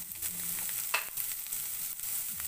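Salted green beans fry in a pan for fried rice, giving a quiet, even sizzle with a few light spatula clicks and scrapes over a short stretch.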